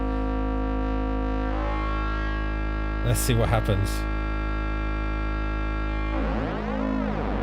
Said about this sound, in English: this is the sound of this going through the Antidote and the Euphoria